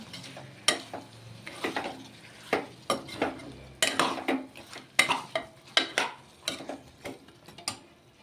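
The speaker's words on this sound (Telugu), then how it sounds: "టమాటా ఇట్లా ఆయిల్ వేస్తే మంచిగా ఉడుకుతుందండి మెత్తగా" Tomatoes cooking soft in oil for mutton curry, a low sizzle under repeated clinks and scrapes of a spoon stirring the pan, close and fairly quiet, no talking.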